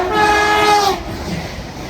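A Chester to London Euston passenger train on the West Coast Main Line at Nuneaton sounds a loud two-tone horn close by, then its rumble and clatter continue briefly as it passes.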